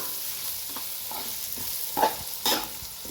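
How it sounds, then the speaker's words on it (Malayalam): Radish curry masala stirred and fried in a pan over low flame, with repeated scraping stirs over a steady soft sizzle, close and moderately loud, no talking. "ഒരു 3 മിനിറ്റ് കൂടെ ഒന്ന് ഫ്രൈ ചെയ്തെടുക്കാം"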